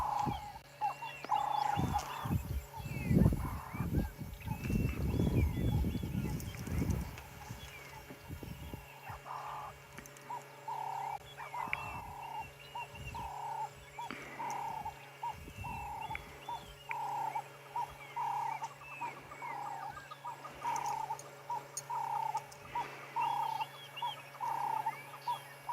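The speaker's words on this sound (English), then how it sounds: "I'm just going to sit here and listen to the bird calls." Loud bird calls at dawn during a safari sunrise in the wild, a chorus of repeated calls with several strong close bursts early on, then steady rhythmic calling over a low background hum.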